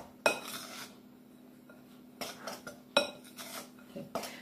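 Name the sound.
stirring scone mixture in a bowl with a knife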